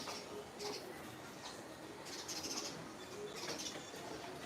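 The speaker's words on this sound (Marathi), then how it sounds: "भरपूर चिमण्या येतात" Sparrows chirping in short bursts, moderately close, over a steady outdoor background hiss.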